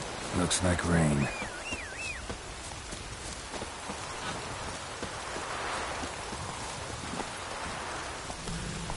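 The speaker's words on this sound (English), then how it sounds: "Looks like rain." Steady rain falling in The Witcher 3, a broad wash of hiss and patter throughout, with a brief stretch of talk and a tonal vocal sound near the start over the downpour.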